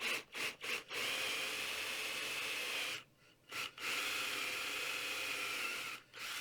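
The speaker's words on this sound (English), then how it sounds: "So I'm going to pre-drill." A drill pre-drills holes through a wooden workbench top backed by 3/4-inch plywood, a steady high whine in sustained runs broken by short pauses and quick stops, close and fairly loud.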